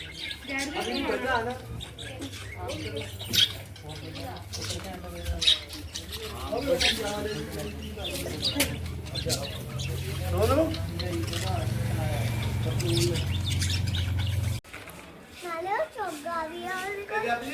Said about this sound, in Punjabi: ਚਿੜੀਆਂ ਦਾਣਾ ਖਾਂਦੇ ਨੇ